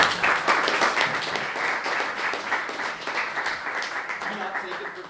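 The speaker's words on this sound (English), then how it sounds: "a round of applause for Appsterdam" An audience claps in steady, sustained applause at a talk, dense and even throughout, fading slightly toward the end.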